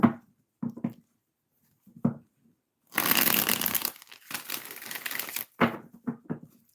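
Tarot cards are shuffled close up, with short riffles and slides breaking into a dense, rapid burst of card flutter before a few soft taps and shuffles trail off.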